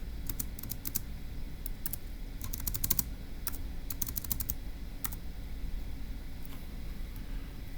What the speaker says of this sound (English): Let's go ahead and type that up.